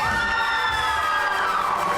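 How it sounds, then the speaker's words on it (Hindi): A television studio audience on a Hindi talk show gives a guest a short burst of loud cheering and shrieks with applause, bright and close, filling the whole moment. "बहुत सारी तालियां इनके लिए"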